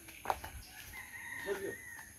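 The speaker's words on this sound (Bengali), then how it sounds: "গৃহপালিত মুরগা খাবার অন্বেষণ করছে" A domestic rooster forages in a village beside rice fields early in the morning, giving faint, brief clucking and crowing calls among quiet outdoor bird sounds.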